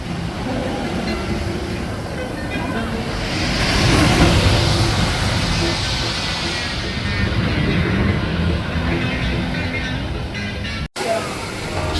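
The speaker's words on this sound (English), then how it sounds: "Front row night ride here on Maverick" Front-row night ride on the Maverick roller coaster at Cedar Point: a loud, steady rumble and roar of the train racing along the track, swelling for a moment and holding high throughout, with a brief sharp cutout near the end.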